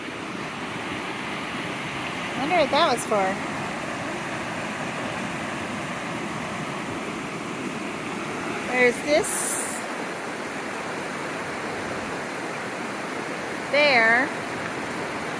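A creek flows nearby with a constant rushing, hissing wash of water, while a person speaks briefly a few times over it.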